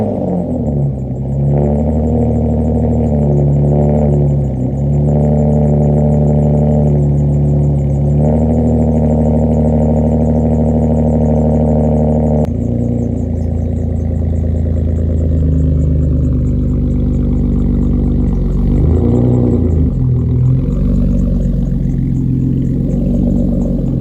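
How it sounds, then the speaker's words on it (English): A 7th-generation Nissan Maxima cold-starting, its engine settling into a loud, steady close-up idle with a brief rev swell partway through, and no talking. "let's start with the cold start."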